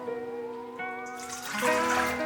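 Warm water poured for bread dough, a rising tonal gurgle as a vessel fills, turning into a louder broadband splash toward the end, close and with no talk.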